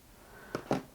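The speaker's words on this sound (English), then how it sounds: "I'm going to go ahead and trim this little piece of zipper tape here" Scissors snip a small piece of zipper tape on a shawl collar zipper. Two short, close cuts land in quick succession near the end, after a near-silent lead-in.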